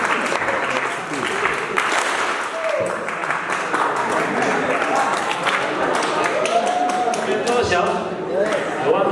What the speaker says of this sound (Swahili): tupigie makofi kwa njia ambayo inafaa.